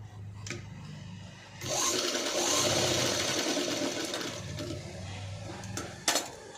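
A sewing machine stitches the side seam joining a red patch to a green blouse piece for a patchwork design, starting after a quiet moment and running as a steady close whir for several seconds, ending with a brief clatter.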